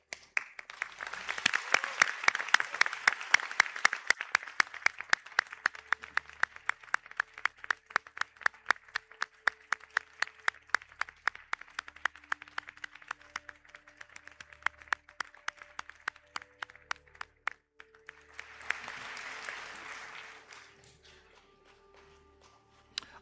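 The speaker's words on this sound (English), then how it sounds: "to stand for a round of applause." Applause from the audience at a college conferring ceremony, a broad wash of clapping that thins into a few steady, rhythmic claps, then swells again briefly before dying away.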